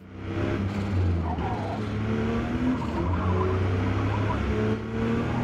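Porsche 911 drifting in the Forza Motorsport racing game: a steady, loud engine drone with shifting tone as the car slides, continuous throughout.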